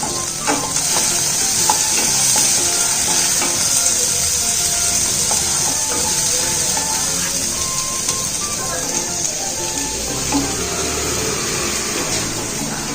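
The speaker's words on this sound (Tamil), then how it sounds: "அந்த பட்டர் வந்து மெல்ட் ஆகிறதுக்கு முன்னாடியே சின்ன சின்னதா கட் பண்ணி வச்சிருக்க பூண்டு சேர்த்துக்கலாம்." Chopped garlic fries in melting butter in a pan, a continuous close hiss and crackle of sizzling with occasional light stirring clinks and scrapes throughout.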